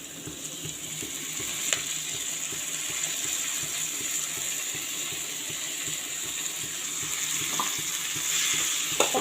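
Tomato, onion and curry leaves fry in a pan with a steady, close sizzle and bubbling crackle that holds for the whole stretch, with a few faint clinks.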